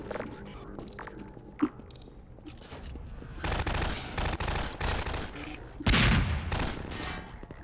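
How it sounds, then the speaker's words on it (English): Gunfire crackles in Half-Life 2: Episode One, starting as scattered faint shots and a sharp crack, then building into dense bursts of rapid automatic fire in the second half, fairly close. "Stop shooting!"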